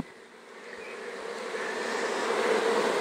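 Honey bees around hive boxes during a split fill the air with a steady, dense buzz that grows gradually louder and closer, with no voices.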